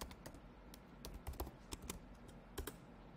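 Quiet, close typing on a computer keyboard while Python exception-handling code is written: a short irregular run of soft key clicks with a few louder taps, and no voice over it.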